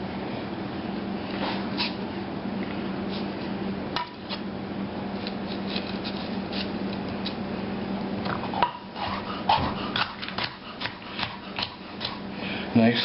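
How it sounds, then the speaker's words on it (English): A kitchen knife dices green pepper on a cutting board, giving scattered light taps and clicks that turn quicker and more distinct toward the end, over steady room hum and faint kitchen background. "now let's dice some of this green pepper"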